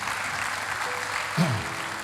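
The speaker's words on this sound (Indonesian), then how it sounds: "Beri tepuk tangan yang meriah buat Tuhan." A church congregation applauds during a sermon, a soft, steady patter of clapping at a moderate distance, with a short voice cutting through briefly partway in.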